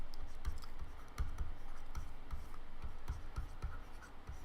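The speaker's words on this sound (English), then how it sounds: "let's just write it down" Pen scratches across paper in quick, irregular strokes and taps, faint and close, with no voices.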